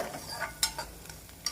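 Chopped goat spleen sautéing in spiced onion masala, with a soft sizzle and a few scraping stirs of a spoon in the pan, fairly quiet, no talk.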